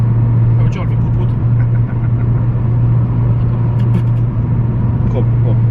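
Inside a moving car, a steady low engine rumble and road drone fill the cabin, loud and continuous, with faint voices beneath.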